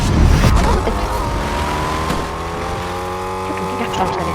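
A car engine in the video game Fortnite hums and revs steadily with a rising tone, accompanied by a brief knock near the start and some overlapping game sounds.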